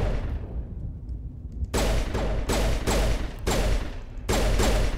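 Rapid gunfire from a gun in Mass Effect Legendary Edition on Eden Prime: after a quiet stretch, four loud bursts of sustained automatic fire, separated by brief pauses, close and harsh.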